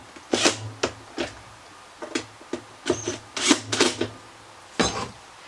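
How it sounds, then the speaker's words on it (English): A hand tool works the handle bolts on a BougeRV 12V 42QT portable fridge/freezer, giving a close run of short irregular clicks, ratchety rasps and light taps with brief pauses between them. "Now I'll go ahead and tighten her down."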